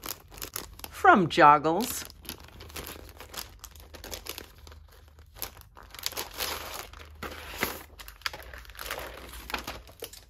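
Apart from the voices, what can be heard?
unwrapping plastic packaging of a new stencil mask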